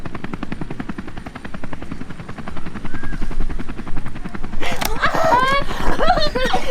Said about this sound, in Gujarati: બેટા આપણો તો તમને હેલિકોપ્ટર છે અવાજ આવે છે.